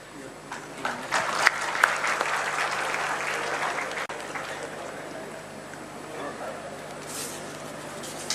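Crowd applause at the inauguration of the Shahid Rendo Majhi Medical College in Kalahandi, a sustained loud patter of many hands clapping that gradually thins and fades over several seconds.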